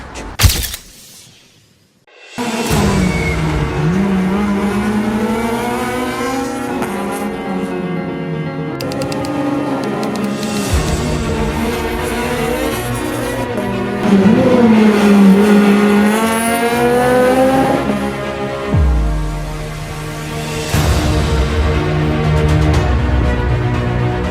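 Citroën C2 R2 Max rally car racing, its engine note rising and falling through gear changes, loud and close and running almost continuously after a brief quiet start, with no talk.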